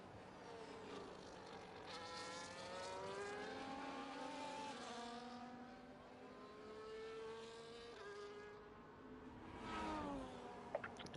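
Several race cars in an iRacing sim racing esports round at Canada, their engines whining and shifting pitch as they power through corners together, loud and steady with a brief surge near the end and no talk.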